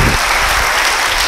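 Congregation applauding during a church service, a loud, dense burst of clapping close by that fills the whole short moment with no talk over it.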